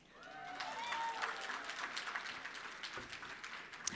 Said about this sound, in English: I'm gonna let that applause pass,